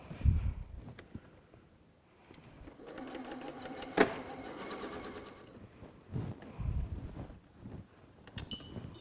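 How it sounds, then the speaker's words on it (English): A sewing machine chain piecing quilt block pieces for a small wall hanging, with quiet bursts of needle stitching, fabric handling and small clinks between runs, faint and close. "All right, let's do some sewing."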